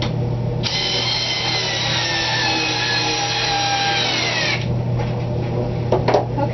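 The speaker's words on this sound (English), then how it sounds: "then I'm going to finish drilling it in." A cordless power drill drives a screw into a wooden board while a soap mold box is being built, a steady whirring run of about four seconds, then stopping with a few faint knocks.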